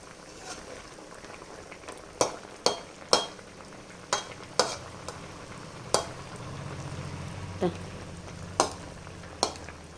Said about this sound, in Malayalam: നമ്മുടെ കുമ്പളങ്ങ അതാ പഞ്ചസാര ലൈനിൽ ഒന്ന് തിളച്ചുകൊണ്ടിരിക്കുകയാണ് കേട്ടോ